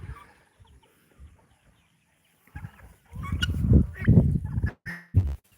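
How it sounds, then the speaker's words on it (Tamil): Chickens and roosters on a country-chicken farm, with turkeys kept nearby, cluck and call in a burst of overlapping fowl sounds after a quiet start, fairly close and loud. "நம்ம பண்ணையில் வந்து வான் கோழிகள் சேவல்லாம் நிறைய இருக்குங்க"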